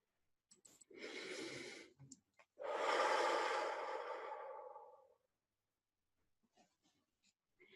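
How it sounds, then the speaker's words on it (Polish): Slow deep breaths during a guided meditation: a long inhale, a brief pause, then a longer, heavier exhale trailing off into near silence, close and soft. "I jeszcze jeden oddech."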